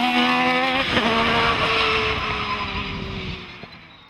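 A Gould V6 hillclimb race car at a British Hillclimb Championship round at Loton Park: a loud, close engine roar that shifts in pitch through the run, then fades slightly as the car pulls away.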